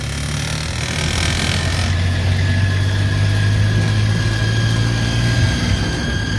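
A Multicab engine idling close by, a steady loud rumble with a low hum and faint mechanical whine throughout, no speech.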